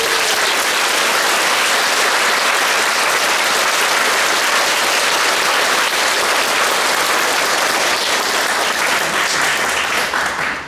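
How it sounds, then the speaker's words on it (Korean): Loud, sustained applause from a congregation fills a Catholic church during a confirmation Mass, welcoming the presiding bishop, a dense steady clapping that lasts about ten seconds without letting up. "큰 환영의 박수를 부탁드립니다"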